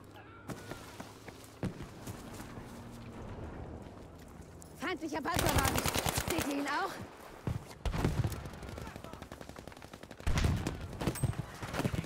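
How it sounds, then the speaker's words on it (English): Gunfire rings out in the Battlefield V shooter game: scattered single shots early on, then a dense, loud rapid volley near the middle and more bursts later. Voices talk over parts of it. "He's shooting at me."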